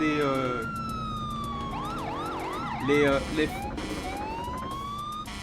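A police car siren in the racing game TrackMania United Forever wails and yelps in rising and falling sweeps, loud and close over a steady background hum.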